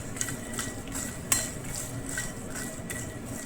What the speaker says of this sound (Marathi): मखाणे आपण थोडे भाजून घेतो आहे.